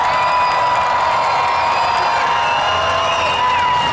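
Crowd cheering at a monster truck show at the 148th Armada Fair in 2021, a loud sustained roar of shouts, whoops and applause from a large audience throughout.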